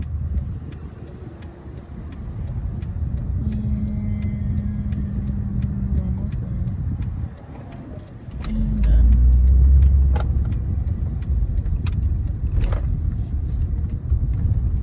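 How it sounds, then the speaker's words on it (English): Many cars pass at a road turn, a steady low traffic rumble that swells into a heavier, closer vehicle surge past the midpoint, with faint jingling clicks over the top. "this turning thing right now is not nice because there's too many cars"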